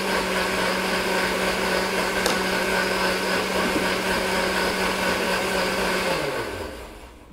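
A blender whirs loudly and steadily while mixing alkaline, distilled, purified water for rejuvenation clay, then its motor winds down and stops near the end, with no talking.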